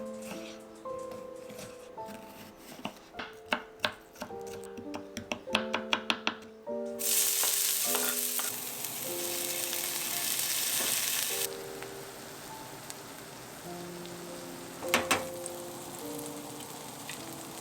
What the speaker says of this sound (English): for breakfast, I'm going to make machaca and eggs